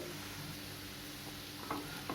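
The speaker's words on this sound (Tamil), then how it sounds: "உருளைக்கிழங்கு ஃப்ரையும் இந்த சைடு ரெடி ஆகிட்டுருக்கு." Soft, steady sizzling of potatoes frying in a pan, with a couple of brief stirring scrapes near the end; no voices.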